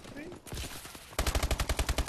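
Rapid automatic gunfire from a video game 2v2 Uplink match, a loud evenly spaced burst of about a dozen shots filling the second half after quieter game sounds and muffled voices.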